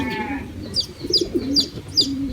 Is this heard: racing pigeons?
yes